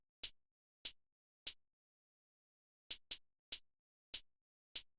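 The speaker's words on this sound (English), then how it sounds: "And then I did the hi-hats" Crisp hi-hat samples from an FL Studio beat tick in a sparse, uneven pattern, eight bright short hits with gaps, alone and up close.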